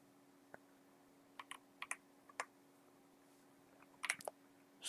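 Computer keyboard keys are tapped in sparse, scattered clicks with short bursts, close but quiet over a faint steady hum, with no talking.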